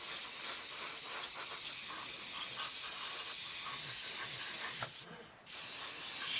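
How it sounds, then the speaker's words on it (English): An airbrush sprays paint for a 1/48 Messerschmitt Bf 109 model kit in a steady, close hiss that runs nearly unbroken, dropping out briefly for about half a second near the end before resuming. "Put this through the airbrush. Only a bit. It's fine. A couple of test sprays."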